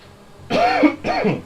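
Someone with a dry throat gives two quick, close, rasping throat-clearing coughs in succession.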